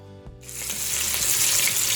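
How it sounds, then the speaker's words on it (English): Pot roast meat drops into a hot pan and erupts into a loud, close, steady sizzle that holds for the rest of the moment after a brief quieter start. "over here I'm continuing to sear my meat"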